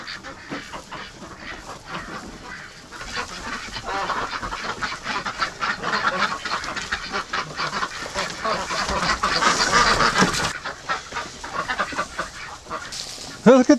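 A flock of ducks in a barn quacks continuously and noisily up close around new nesting boxes, overlapping calls building in intensity, with a voice speaking faintly underneath.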